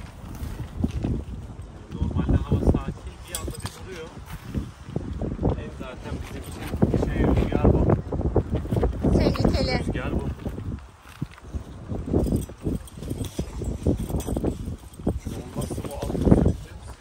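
Strong gusty wind blows at a campsite, roaring in uneven bursts against the microphone while people talk nearby.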